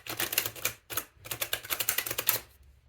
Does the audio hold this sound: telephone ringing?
no